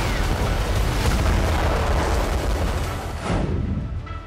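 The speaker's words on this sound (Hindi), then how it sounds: "देखिए लगातार धमाके की आवाज आ रही है।" Explosions in the Russia-Ukraine war zone rumble as a continuous heavy booming roar, loud and sustained, then slowly fade toward the end.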